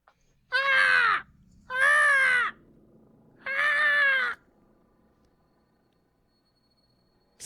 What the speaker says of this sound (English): the sound of birds